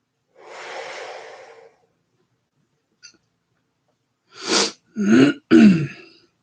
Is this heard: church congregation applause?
no